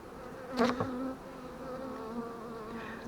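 Honeybees buzz around beehive frames while an apiarist inspects the hive, a continuous close drone with one louder bee passing near the start.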